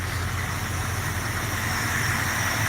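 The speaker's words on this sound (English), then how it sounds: "Idle's fairly smooth though." A carbureted engine idles smoothly and steadily with a low, even rumble and a quiet exhaust, holding constant with no talking.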